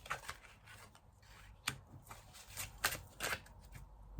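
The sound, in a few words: oracle cards being drawn and handled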